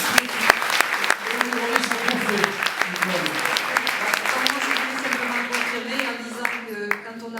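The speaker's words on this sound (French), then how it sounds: "Je crois qu'on peut l'applaudir bien fort." Lively audience applause at a women's tech and media awards ceremony, with continuous clapping from a crowd and voices talking and cheering underneath, sharper individual claps popping out near the front.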